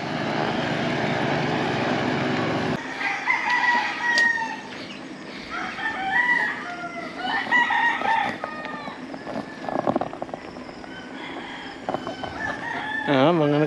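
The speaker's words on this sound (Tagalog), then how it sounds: "Mga nagtitilaw ka na po yung mga manok. Alas 6 ng umaga." Several roosters crow at six in the morning near rice fields, with repeated calls from different distances and some clucking over steady ambient noise and a passing rumble.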